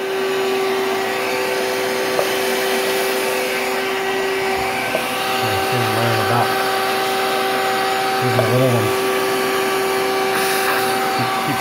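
Steady, loud drone of a vacuum cleaner running continuously while cockroaches are sucked up in an apartment, with a voice speaking briefly over it and a few faint bumps.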